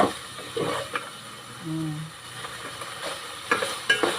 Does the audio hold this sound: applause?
no